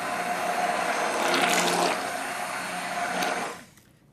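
A blender whirs as it mixes a small batch of soap batter made with butter blend oils, running steadily with a loud swell in the middle before cutting off near the end.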